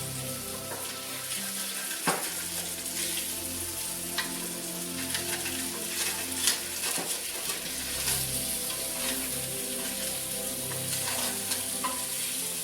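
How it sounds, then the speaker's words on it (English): Beef for a shepherd's pie sears in a pan with a steady, close sizzle and crackle. Occasional utensil knocks and stirring scrapes sound over it, with no talking. "Then searing a little bit."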